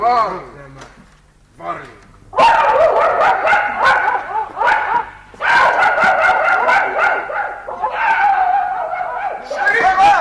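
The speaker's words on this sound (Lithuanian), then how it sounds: "Šunis Vingi!" A dog barks in a run of sharp, loud yips and whines, close by, in bursts with brief pauses between them, during a 1978 Lithuanian stage play performance.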